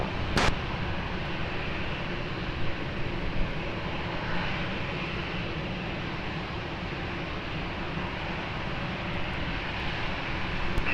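Airplane landing at Lisbon Airport, a distant, steady engine roar with broadband rumble that persists throughout, a brief sharp click near the start, and no talk.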